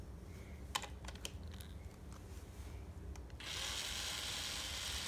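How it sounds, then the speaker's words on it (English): A small powered screwdriver with a smaller bit works on a toy tractor, giving a faint buzzy whir with a few clicks before it runs steadily. "Gotta use the smaller screwdriver, smaller bit."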